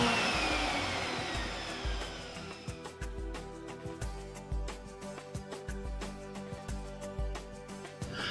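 A Sirena water-filter vacuum cleaner runs to dry out its hose, a quiet steady motor hum with a faint whine and a rhythmic thumping pulse.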